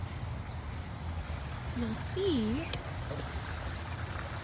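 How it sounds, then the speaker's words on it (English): Creek water flows along a nature walk, a steady soft rushing wash that persists beneath a person talking, with a brief whistle-like tone partway through. "you'll hear some water"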